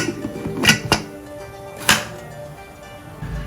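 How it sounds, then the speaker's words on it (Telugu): A few sharp metallic clicks and clanks, two close together then one more, as a heavy pressure cooker lid is set and locked. "ఇప్పుడు మూత పెట్టేస్తున్నాను"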